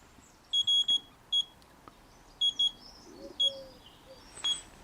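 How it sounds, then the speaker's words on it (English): Several short, high electronic startup beeps from a Kingsong S22 electric unicycle in quick clusters, with pauses between groups, sounding over a quiet background hiss. "You can see it goes through all its beeps"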